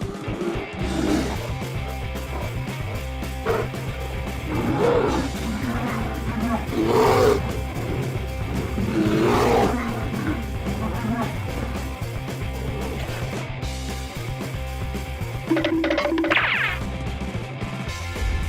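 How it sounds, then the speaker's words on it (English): A male lion roaring and snarling while fighting a black bear that strayed into its territory, loud rough roars and growls in repeated bursts over a constant rumbling background. "a very unusual fight occurred as a male lion decided to drive the animal away from its land."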